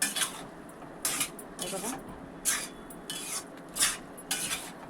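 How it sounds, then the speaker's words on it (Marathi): Mashed vegetables for pav bhaji stirred in a pan, repeated scraping and clattering strokes of a spoon against metal in an irregular rhythm, with someone speaking briefly. "आता छान मिक्स करून घेऊया."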